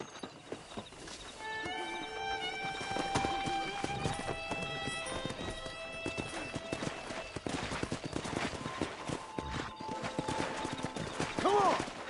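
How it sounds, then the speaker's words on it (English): Horses galloping across open country in the video game Red Dead Redemption, with rapid hoofbeats amid music and sporadic gunshot-like cracks, a neigh near the end, and occasional voices. "Let's see if we can't wrangle some horses."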